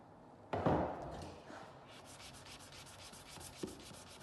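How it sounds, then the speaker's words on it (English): 180 grit sandpaper rubs over a filled repair in light patterned kitchen laminate. A close, brisk sanding sweep starts sharply, then settles into softer continuous rubbing with a second short stroke near the end, and no voices. "Then sand with 180 grit sandpaper."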